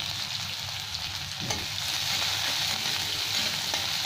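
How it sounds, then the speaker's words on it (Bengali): Chopped onion dropped into very hot oil, a dense, even crackling sizzle close to the pan, swelling slightly after a soft thump midway and holding steady throughout. "তেল অনেক বেশি গরম হয়ে গেছে তো, এবার দিয়ে দিলাম পেঁয়াজ"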